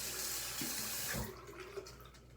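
Tap water runs steadily into a bathroom sink while it is rinsed out after cleaning makeup brushes, a close continuous splashing rush that cuts off partway through, leaving faint drips and a soft clunk.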